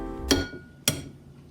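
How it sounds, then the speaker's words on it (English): Two sharp cracks of eggshell against a hard edge while making a Soviet-era recipe, spaced about half a second apart, close and distinct with no talking. "We got some eggs pre-cracked here. We got one more to go."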